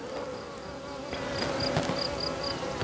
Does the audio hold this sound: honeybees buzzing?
yes